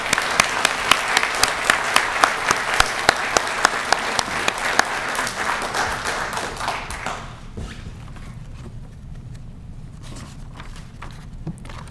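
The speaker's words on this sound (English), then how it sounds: "I'd like to give a round of applause to Dina, Carolyn, and Henry right now," A crowd at a retirement ceremony claps loudly and steadily for about seven seconds, then the applause stops abruptly, leaving a quiet room with faint background noise.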